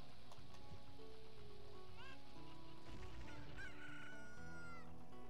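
Rooster crowing in Zelda: Ocarina of Time, two quiet rising crows heard against background game music and ambient effects.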